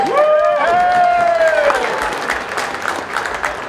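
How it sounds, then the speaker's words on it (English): Audience at a Tennessee turkey hunt banquet and auction applauds steadily, with a loud crowd of clapping and a whistle sweeping up near the start, continuing throughout. "You give him a round of applause."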